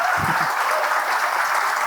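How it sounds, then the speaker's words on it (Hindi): An audience at a developer conference tech talk applauds with continuous, fairly close clapping that holds steady for the whole stretch, with a brief low thump near the start. "ये पहली बार मैंने कोड पे तालियां बजवाई हैं,"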